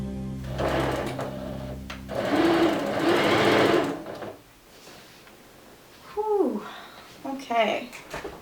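A sewing machine stitching pashmina fabric whirs in steady, loud bursts of rapid stitching, then stops; a voice speaks briefly afterward.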